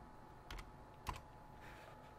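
A few light keystrokes on a computer keyboard, quiet and sparse over a steady background hum.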